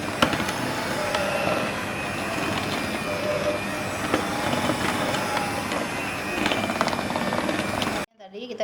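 Electric hand mixer running on low speed through cookie dough, a continuous whirring drone with irregular scraping and knocking that stops abruptly near the end, with some speech.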